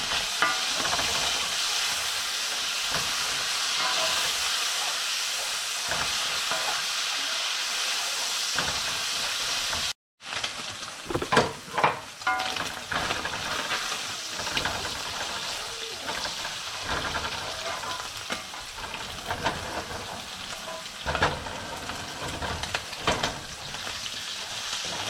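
Asparagus fries in a hot cast iron skillet, a steady loud sizzle and hiss running throughout, with a brief cut partway and busier crackling and stirring after it, no voices.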